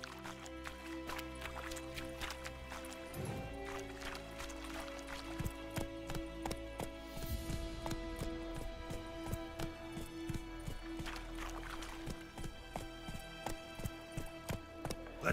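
Roach, a horse in the video game The Witcher 3: Wild Hunt, gallops with a steady, rapid clip-clop of hooves close up, its rhythm running continuously throughout and briefly overlapped by a tonal game sound.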